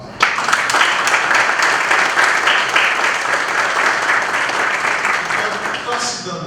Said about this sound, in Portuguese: Uma salva de palmas para Maria.